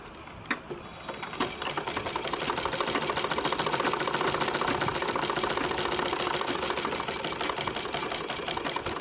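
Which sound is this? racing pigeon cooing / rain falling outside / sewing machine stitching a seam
sewing machine stitching a seam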